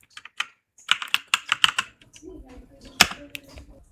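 Typing on a computer keyboard while entering text in PowerPoint: two bursts of quick, close key clicks with pauses between, no talk.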